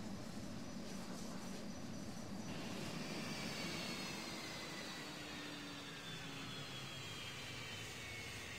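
Viper Zero aircraft flying in the Roblox game Aeronautica, a faint, steady engine drone with a broad hiss and a slight change in tone partway through, with no voices over it.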